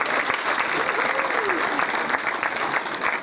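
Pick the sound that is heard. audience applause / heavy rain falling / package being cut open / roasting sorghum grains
audience applause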